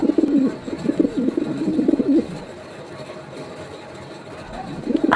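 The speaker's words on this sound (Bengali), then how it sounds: "এখানেও বেশ কিছু কবুতর" Pigeons cooing at a busy outdoor pigeon market, a rolling burst of close coos early on, then quieter market background before cooing resumes at the end.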